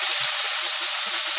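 Carrots sauté in a pan for a stir-fried bihon dish with chicken fillet, giving a loud, continuous sizzle and hiss with no pauses and no voices.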